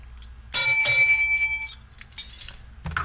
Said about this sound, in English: A bellhop bell.